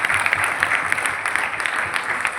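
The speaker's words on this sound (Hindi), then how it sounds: "7वें महीने का है भाई, ताली बजा लो।" Dense, steady applause from a seminar audience at a business success event, a continuous crackle of many hands clapping that stays at an even level throughout.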